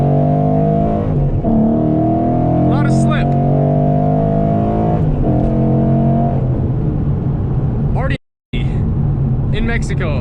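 A 2014 Mustang GT V8 fitted with a Boss 302 intake manifold pulls hard in first gear, its loud engine note rising in pitch, with a short gap near the end and a voice heard briefly.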